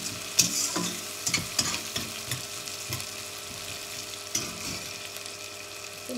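Onions sauteing in a pan for vegetable upma, a South Indian semolina breakfast, with steady sizzling frying and repeated scraping stir strokes of a spoon, close and moderately loud, with no talking.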